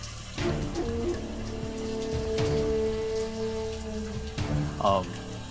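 Steady rain falls in a constant wash of hiss and patter, close and even throughout, with background music and brief voices layered over it in an outdoor drama scene.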